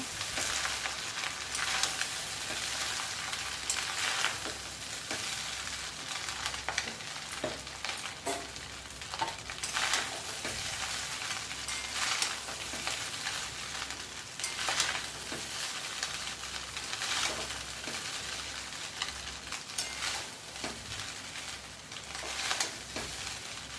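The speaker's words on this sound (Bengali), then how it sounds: "পুরো ভাতটাই দেখুন মিশিয়ে নিচ্ছি সবজির সাথে" Cooked rice being mixed with vegetables in a frying pan on a low gas flame, with repeated scraping stirs and spatula knocks over a steady sizzle, close and continuous for the whole stretch, no talk.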